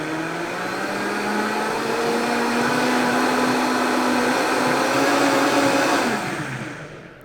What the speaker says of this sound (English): now I'm gonna blend this. So on your blender, start on low and then you can increase the speed